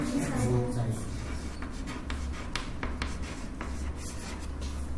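An algebra squaring step being written out by hand in class: soft, scratchy pen or chalk strokes come in short quick runs, close by, with a teacher's voice partly over them.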